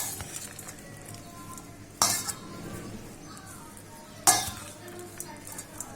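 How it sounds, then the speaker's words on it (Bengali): A spoon mixes onions with spices for a sour-spicy grated raw mango pickle, giving soft continuous scraping and stirring with two sharp, close clinks against the bowl. No one speaks. "আমি চামচ দিয়ে মাখাচ্ছি।"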